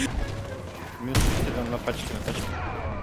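A mine blows up in the Warface shooter game, a loud broadband blast around the one-second mark, followed by rumbling game noise and scattered impacts, with a voice talking over it.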